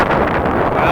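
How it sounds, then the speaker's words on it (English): Strong wind buffets an outdoor microphone in a steady, loud broadband roar with constant rumbling gusts and no pauses. "Sorry if you hear wind, it's pretty windy out here today"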